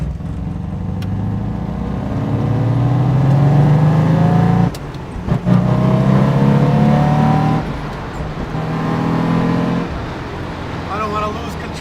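A 1965 Chevrolet Corvette with a ZZ4 V8 driving on wet streets, engine rising through rev sweeps with gear changes and throaty acceleration, loud and close, with people talking at times.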